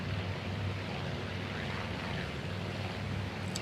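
Steady drone of a WWII propeller carrier aircraft coming in to land on a carrier deck in the naval game Task Force Admiral, a constant engine hum at moderate distance with no talk.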